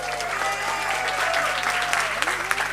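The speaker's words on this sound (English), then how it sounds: "Please give her a round of applause again." Sustained applause from an audience at a school event, a dense even wash of clapping held for the whole stretch, with a faint voice tone briefly audible beneath it.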